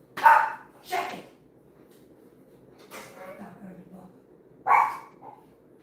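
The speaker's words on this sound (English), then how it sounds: "there's my dogs" Pet dogs bark in a home: a few sharp, separate barks come close by, with quiet gaps and softer murmurs between them.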